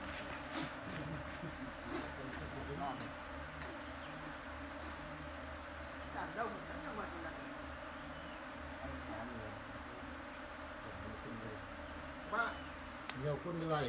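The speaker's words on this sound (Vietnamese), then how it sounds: "Toàn ong là ong." Honey bees buzzing around an open hive during honey harvesting, a dense continuous hum of many insects at close range with occasional louder passes, faint and steady without speech.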